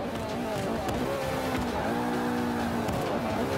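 A race car in Forza Motorsport 5 brakes hard. A loud steady engine drone is overlaid by squealing tires that rise and hold through the middle of the clip, with no talking.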